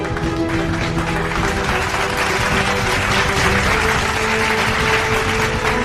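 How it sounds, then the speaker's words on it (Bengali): Sustained applause fills a large conference hall, dense and even clapping from a big crowd that holds steady for several seconds without fading. "করতালিতে মুখরিত হলো সারা সম্মেলন কক্ষ।"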